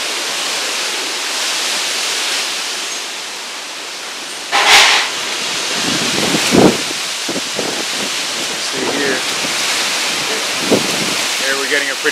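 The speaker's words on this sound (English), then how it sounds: "Pretty good gust there now." Strong wind from the outer bands of Hurricane Ian roars steadily through a food forest garden, a loud broadband rush with a sharper gust surging midway and brief rustling bursts, as someone talks over it.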